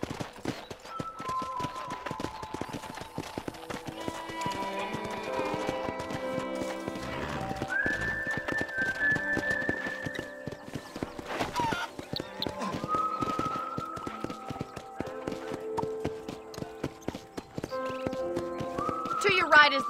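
Horse hooves clip-clop and a horse neighs in Red Dead Redemption, with steady hoofbeats running throughout, close and prominent, and several whinnies along the way, while people talk over them.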